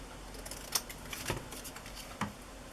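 Scissors snipping the to-and-from section off a paper gift tag, three faint, quick cuts spaced about half a second apart in a quiet room.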